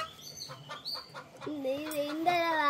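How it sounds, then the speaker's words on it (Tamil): Ducks on an organic farm give short, repeated clucking calls at close range, with a voice talking over them in the second half. "இது கோழி இல்ல, தாரா."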